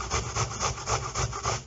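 An apple is grated by hand in quick, steady back-and-forth rasping strokes, about seven close, even scrapes with no talking.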